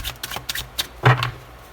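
Tarot cards are handled and one is laid over another on a surface, giving a few soft papery slides and light taps with one fuller swipe near the middle.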